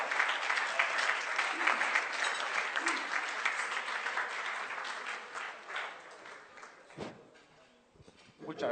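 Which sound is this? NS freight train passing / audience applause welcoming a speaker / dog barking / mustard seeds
audience applause welcoming a speaker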